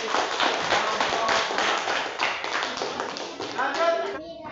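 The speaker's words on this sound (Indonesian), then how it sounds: "Tepuk tangan dulu untuk penampilan dari kelompok." Classroom applause for a student group after their presentation, a dense patter of many hands clapping steadily and close by for about four seconds, fading slightly near the end.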